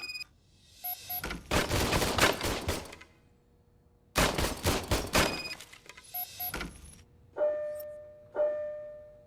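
Old service gun fired in the video game RoboCop: Rogue City: two long, loud bursts of rapid automatic fire with short tonal beeps between and after them, no talk.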